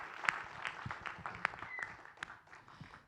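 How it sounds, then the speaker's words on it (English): Audience applause at an agricultural startup demo night, a steady patter of many hands clapping with a few sharper claps and faint voices mixed in, moderately loud and fairly close. "please give these teams another round of applause."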